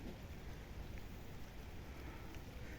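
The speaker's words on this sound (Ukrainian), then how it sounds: "пішов дощик ще більший" Rain grows heavier over a Kyiv dacha garden in late May, a dense, even hiss of falling drops that carries on without a break and with no voices over it.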